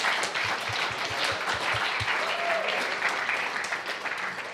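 Congregation applauding at a church service, a steady wash of many hands clapping that holds evenly through the whole stretch with no voices on top.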